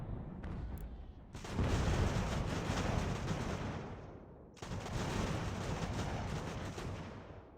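Naval cannon fire from warships in the game Ultimate General: American Revolution comes as two long, rumbling, crackling volleys. The second starts after a brief drop in sound.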